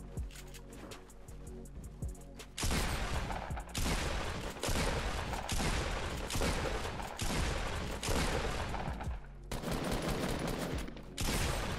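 Pump shotgun and other gunfire in a battle royale video game come as loud, dense blasts in several long bursts with short gaps between them. Quieter clicks and rattles come first.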